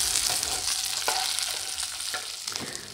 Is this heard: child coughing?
no